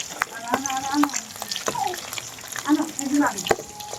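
Eggs for an egg curry fry in a pan with a continuous close sizzle, punctuated by sharp clinks and scrapes of a utensil as they are turned and lifted; a voice speaks intermittently over the frying.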